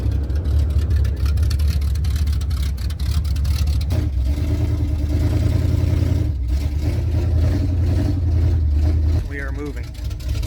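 A truck engine rumbles and revs steadily while it tows a Suburban hooked behind it, a loud, sustained low drone with a voice speaking briefly near the end.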